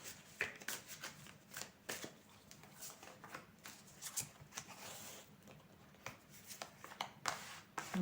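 Dixit playing cards being shuffled by hand, a close, soft riffling and patter of card stock in repeated bursts across the whole stretch, with no talking.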